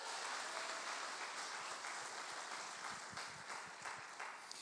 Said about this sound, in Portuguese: Dá o glória a Deus e as palmas para o Senhor bem forte agora